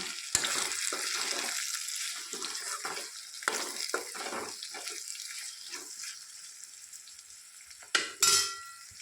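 Bottle gourd curry being stirred in a pan after salt is added, soft sizzling under repeated scraping strokes of a spoon, close, with a louder clatter near the end.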